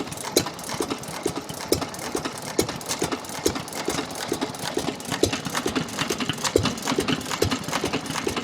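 A vintage petrol-kerosene stationary engine, running on petrol at a vintage engine rally in Speewa, chugs in a fast, steady putt-putt rhythm at moderate volume with faint background activity.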